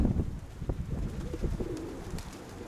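Young pigeon, a fledgling just after its first landing, making soft cooing and squeaky calls amid close, low rustling, the calls brief and intermittent.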